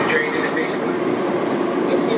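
A train departs Bowie State Station, a steady, close rumble of rolling wheels and car noise that holds at an even level throughout the short stretch.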